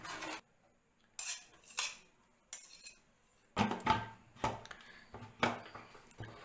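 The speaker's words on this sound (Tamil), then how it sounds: "இதை ஓரங்களெல்லாம் நல்லா வலிச்சு விட்டுட்டு குக்கரை மூடிடலாம்." A metal pressure cooker lid is fitted and closed during onion vathal preparation, giving a series of close, sharp metallic clanks and scrapes separated by brief silences.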